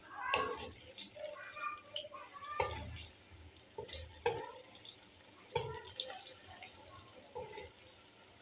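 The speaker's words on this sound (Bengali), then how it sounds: "তেল গরম হয়ে গেছে, এবার পনিরগুলো দিয়ে ভেজে নেব।" Paneer pieces fry in hot oil with a little salt and turmeric, giving a close, steady hiss broken by irregular crackles and sharp pops throughout.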